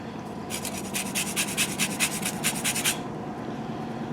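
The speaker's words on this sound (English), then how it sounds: "Put a little lemon zest in there." Lemon zest scraped against a grater in a quick run of about a dozen rhythmic rasping strokes, close and clear, then stopping.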